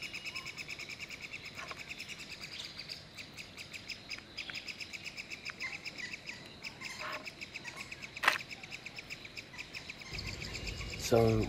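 Birds chirp and call around a nest in Kruger National Park, with repeated high tweets over a steady insect-like buzz in the background, moderately distant and fairly faint.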